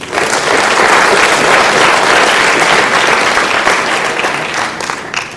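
A school audience at a high school and middle school spring sports awards ceremony breaks into steady, full applause, loud and sustained for several seconds before tapering slightly at the end.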